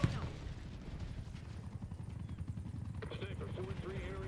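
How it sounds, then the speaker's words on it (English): A watchdog helicopter in Call of Duty Black Ops 7 thuds with rapid rotor beats, steady under a voice talking, with a brief tone near the end. "Last watchdog helo in my AO."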